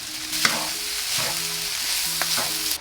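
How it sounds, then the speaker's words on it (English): Garlic sauce stirred into ground turkey in a pan, a continuous close sizzle with a few sharp utensil scrapes and taps, no voices. "I add about 2 tablespoons of garlic sauce and stir it."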